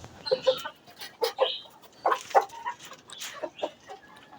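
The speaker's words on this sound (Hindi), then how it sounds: "मुर्गा शरारतें कर रहा है, तो छोटे आपस में लड़ाई कर रहे हैं" A rooster and small chicks cluck and call in a backyard coop, giving short, scattered bursts at close range with quiet gaps between them.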